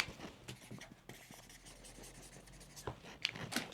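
Pencil tracing a skirt pattern onto a clean sheet of paper for a denim outfit, giving a soft, steady scratchy writing sound with a few louder strokes near the end, close and quiet.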